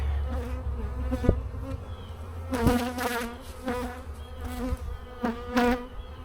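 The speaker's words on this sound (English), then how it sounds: "I let all the flying bees come out." Honey bees buzz in loud, wavering bursts around a swarm box, swelling and fading several times, with a low steady hum underneath and a couple of sharp knocks.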